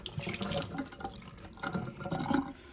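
Water from a kitchen glass rinser sprays forcefully into a reusable water bottle about 1.25 inches across, a loud steady hiss with gurgling splashes that surges twice, close to the microphone and alone.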